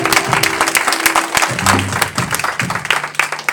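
A church congregation at a healing service applauds and cheers in acclaim of Jesus, with dense clapping throughout and some voices rising over the crowd noise.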